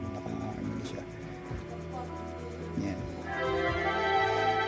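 A Yamaha PSS-795 keyboard plays sustained string-voice chords in harmony, swelling brighter toward the end, with a brief spoken word over it.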